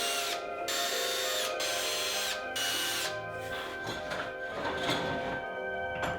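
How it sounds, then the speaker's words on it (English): A power drill whines at high speed in several bursts, stopping and starting, then grinds more roughly as it bites into pine, drilling holes for desk screws. "I'm gonna go ahead and drill them."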